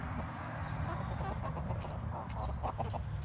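Silkie chickens cluck softly outdoors on a sunny day, faint scattered clucks and murmurs over a steady background hiss, with no voices.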